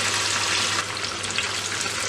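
Steady, dense sizzling and bubbling of chicken wings deep frying in hot oil, close and continuous with no talking.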